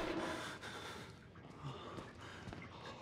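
Heavy in-game breathing in the horror game Outlast, slow close snorting inhales and exhales over a low ambient hum, no speech.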